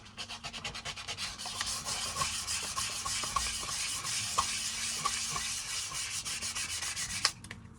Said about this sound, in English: So just going to get our 400 grit again. Just take that roughness away.